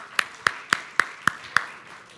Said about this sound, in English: a round of applause for all these gentlemen